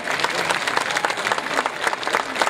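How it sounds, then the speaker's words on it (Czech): A crowd at the 2011 Akuna show in Přerov claps loudly and continuously, a thick wash of hands with faint voices mixed in throughout. "potlesk pro Jirku"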